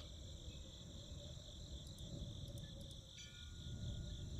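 Steady, quiet chirping of crickets in a video game, a continuous high trill with a few faint clicks and no talking.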